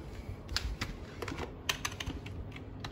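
A computer keyboard clatters with quick, uneven bursts of close keystrokes as a search is typed into Google, with no voice over the tapping.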